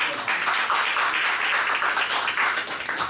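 Audience applause at a business talk in a hall, a steady wash of many hands clapping through the whole stretch, fairly loud and even with no voices over it.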